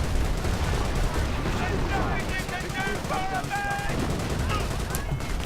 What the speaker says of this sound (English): infantry section with Bren guns firing away.